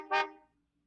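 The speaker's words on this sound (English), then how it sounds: "I tried to relax when I heard a honk behind me." A single short car horn honk from the video game Cupid Parasite, heard clearly and alone, with a quick bright blare that fades within half a second.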